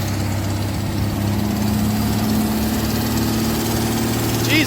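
A 1982 Ford Granada two-door engine runs at a fast high idle just after starting with the choke on, a steady loud drone with strong low harmonics throughout, no voices.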